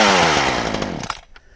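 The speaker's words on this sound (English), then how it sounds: "Hey, it's a very nice saw." Stihl chainsaw engine running loud and close, a steady harsh buzz that winds down and cuts out near the end of the short burst.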